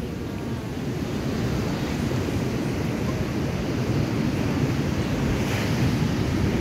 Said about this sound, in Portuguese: Imagina a força das ondas subindo aqui,